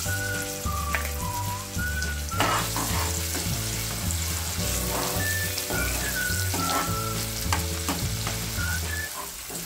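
Onion sizzles and fries in hot oil in a kadhai wok for a dhaba-style paneer patiyala, a steady loud crackle with stirring scrapes and occasional high whistling tones over it, no talk.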